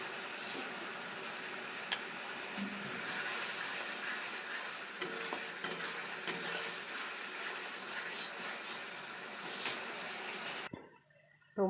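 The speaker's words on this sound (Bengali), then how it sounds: "মশলাটা একদম ভালো করে কষে নিতে হবে, যেন খুব সুন্দর একটা গন্ধ বেরোয়।" A spice paste for a chicken dish fries in a pan while being stirred, a soft steady sizzle with occasional spoon clicks and scrapes, quiet and close, stopping abruptly near the end.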